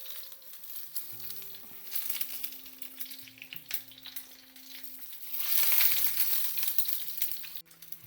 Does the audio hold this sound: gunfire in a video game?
no